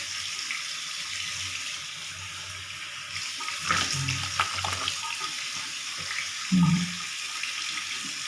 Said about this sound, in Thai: ล้างออกก่อน